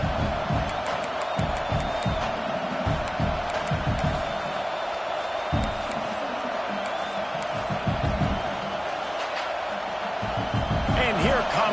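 A packed football stadium crowd roars continuously before a field goal attempt, a steady wall of cheering and whooping with scattered sharp shouts, heard throughout under a commentator's voice.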